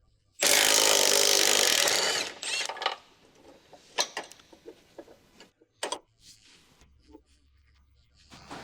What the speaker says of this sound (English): Use an 18mm short socket with an electric impact wrench to remove the two mounting bolts behind the lower control arm.